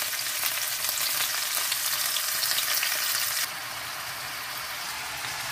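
Tomatoes frying with garlic and shallot in a large pan over lowered heat: a steady, close hiss of sizzling, dropping slightly in level partway through, with no voices.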